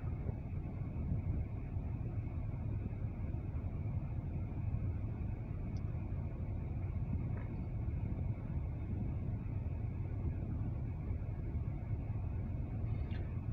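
An OC&T Alco locomotive hauling a grain hopper train through a yard in Titusville, heard as a steady low rumble at a distance that stays even throughout, with no voices.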